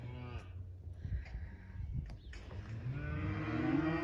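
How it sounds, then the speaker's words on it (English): Recently weaned calves mooing at close range, several long drawn-out calls with pauses of quieter farm background between them, one call rising and growing louder at the end. "some more calves will have been weaned today. So I expect it'll be a little bit noisy again"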